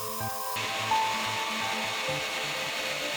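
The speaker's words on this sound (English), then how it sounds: "To avoid having the rabbet show on the sides, we route 1/2 of an inch away from either side" Router cutting a rabbet into plywood for a guitar pedalboard, a steady high-pitched whining rush of the spinning bit that holds at constant loudness for a few seconds, with faint tonal music underneath.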